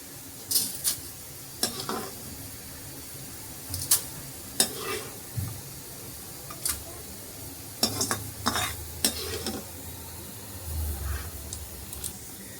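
Spices roast in sesame oil in a pan, producing a faint background sizzle broken by intermittent sharp clinks and scrapes of a spoon against the metal. The stirring comes in irregular bursts, with a brief quiet thump near the end.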